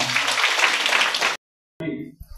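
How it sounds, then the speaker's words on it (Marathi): A church congregation at a prayer centre in Kondgaon claps loudly in thanks to God, with sustained applause that cuts off sharply partway through, followed by a brief silence and some fainter sounds. "आपण जोराने टाळ्या वाजवून प्रभूला धन्यवाद देऊया"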